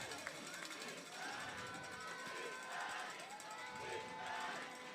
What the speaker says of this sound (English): East St. Louis crowd chanting defense